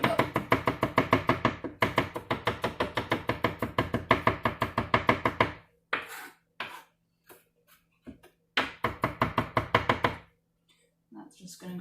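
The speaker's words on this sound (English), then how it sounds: "So the way I cut it, I just cut slices, and then" Knife chopping lamb into slices on a cutting board for fajitas: rapid, steady, close knocks in long runs, pausing briefly before another quick burst, with a person speaking in between.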